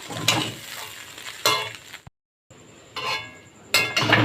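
Flattened rice pulao being stirred in a pan with lemon juice, bursts of scraping and soft sizzling with brief clinks, broken by a short pause, close and fairly loud.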